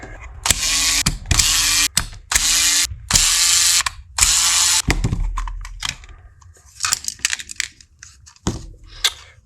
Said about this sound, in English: we've got 5 screws there, so I'll just undo those and we'll see what's inside.